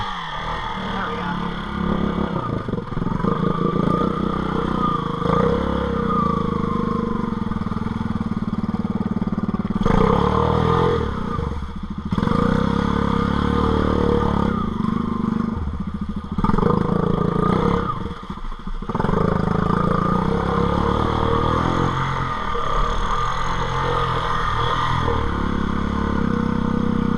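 A 250 Recon ATV engine revving and droning continuously while riding around a creek and swamp after heavy rain, loud and close with rising and falling throttle and some clatter throughout.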